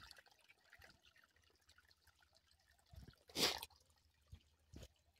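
Water drips from a borewell pipe in a quiet spot, a few sparse, faint drops landing at irregular moments, one louder splash in the middle.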